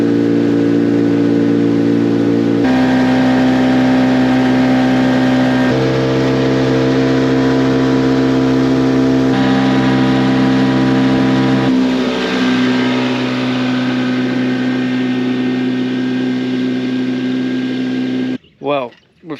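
Small boat outboard motor running through shallow water near the Glass House Mountains, a steady droning buzz that shifts pitch a few times, then cuts out near the end followed by a couple of brief louder bumps.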